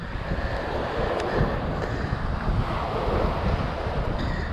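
Steady wind roars outdoors by the water, buffeting the microphone with a dense, continuous rush, while waves wash faintly underneath throughout.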